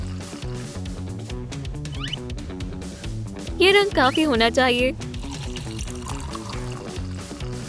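Water trickles as it is poured into paint and stirred, heard under a woman's speech and other busy background sound.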